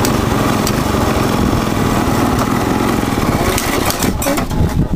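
A small vehicle powered by an alternative-fueled Briggs engine drives along, its loud buzzing, slightly uneven engine drone running close and continuous, with rough, sputtering revs toward the end.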